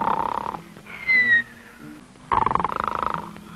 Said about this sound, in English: it sounds as if that lion is getting closer